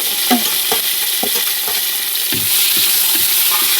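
Onion, mint and coriander frying in a pan for bamboo biryani, a loud close sizzle with repeated scraping stirs of a spoon at an irregular rhythm.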